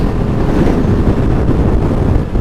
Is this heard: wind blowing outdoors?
yes